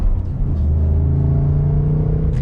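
A Ford Mustang Mach 1 engine running in quiet mode, a steady low rumble with a smooth, subdued exhaust drone and no revving, heard from close by and alone.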